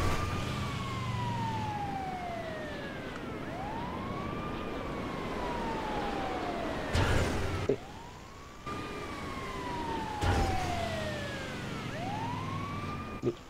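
Wailing ambulance siren in the video game GTA 5 during a megaramp jump stunt, sweeping up and down in long rising and falling cycles, loud and continuous with brief crashing bursts of impact noise.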